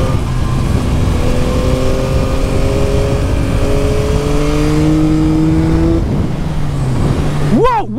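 A Yamaha MT-09 SP motorcycle accelerates hard through several gears, engine tone climbing steadily and loud in steady wind and road noise, ending with a sharp rising rev.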